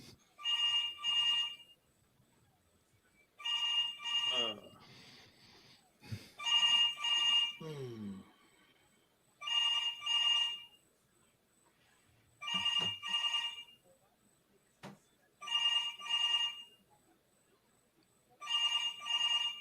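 Phone ringing in a basketball video game while calling Charles Barkley: a repeating electronic telephone ring in regular double bursts with short pauses, moderately loud, over faint background game sounds and a few brief thumps.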